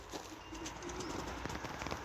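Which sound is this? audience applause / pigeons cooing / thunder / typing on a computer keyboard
pigeons cooing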